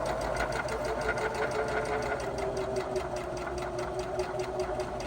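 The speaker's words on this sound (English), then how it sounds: "And then I'm just going to sew straight down." A sewing machine runs continuously at a steady, fast rhythm while stitching a straight seam, close and even throughout, with no talking.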